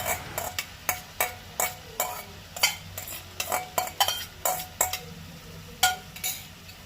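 Goan-style pavta beans are stirred into fried onion and tomato in a pan, giving a steady series of sharp spoon scrapes and clinks roughly every half second over a faint sizzle, close and clear without talk.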